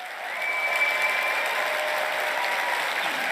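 A standing ovation from a large audience at the CPAC political conference, with dense, loud, sustained clapping that swells after a short start and holds steady throughout, with no speech over it.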